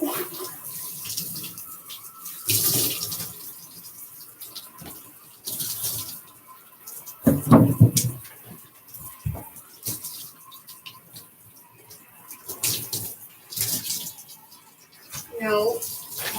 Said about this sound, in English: Just have to rinse you off and wash your feet.